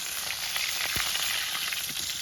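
Tilapia fish fries in hot oil in a heated wok, a dense, steady crackling sizzle close up with a few sharper pops.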